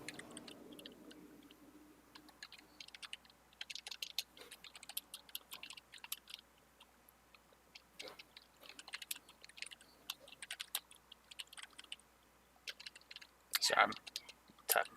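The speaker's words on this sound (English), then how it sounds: "I'm typing something down, an idea I just had" Quick, irregular keystrokes from typing on a computer keyboard, close and fairly quiet, with scattered clicks across the stretch and brief background voices and noises now and then.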